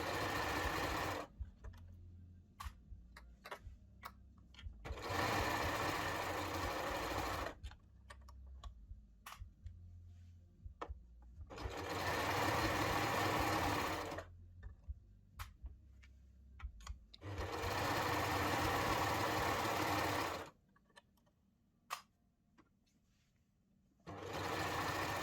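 A sewing machine stitches the side seams of a garment in four long, even runs of fast rhythmic whirring, separated by quiet pauses with small handling clicks; no talking.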